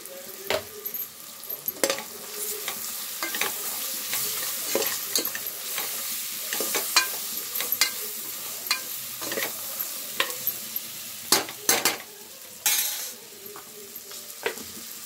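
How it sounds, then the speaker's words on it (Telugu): Ginger garlic paste frying in a pan for a okra stew, with steady quiet sizzling under scattered utensil scrapes and clinks against the pan, and no talking. "తర్వాత దీంట్లో అయితే అల్లం వెల్లిగడ్డ పేస్ట్ వేసుకుందాం."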